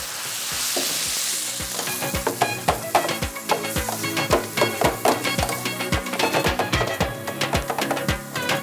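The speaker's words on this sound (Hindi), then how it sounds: "कीमा डालकर अब इसको करते हैं अच्छी तरह से भूनते हैं" Minced meat qeema is fried and stirred on a hot tawa: a close, steady sizzle under a fast, even rhythm of sharp metallic scraping and tapping strokes that keeps going throughout.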